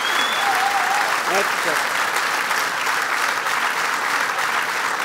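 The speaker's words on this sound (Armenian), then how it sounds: "մեր հաղորդումը շարունակվում է ձեր բարձր ծափարությունների ներքո" A television studio audience gives sustained, dense applause at a talk show, loud and even from start to finish, while a voice speaks briefly over it.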